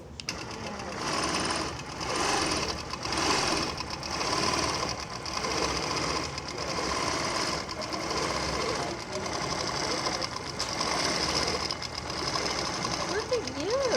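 Sewing machine stitching with green thread: a continuous rapid mechanical whir and chatter that pulses in short runs, with people talking over it.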